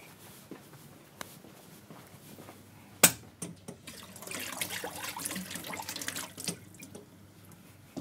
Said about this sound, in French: je vais juste rincer mon entonnoir très rapidement